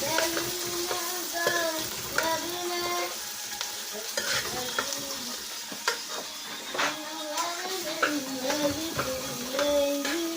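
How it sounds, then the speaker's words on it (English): A spoon stirs food in a home frying pan, scraping and clattering in an irregular rhythm over a steady sizzle from frying food, all close and fairly loud, with no talk. "now get the spoon and mix them together"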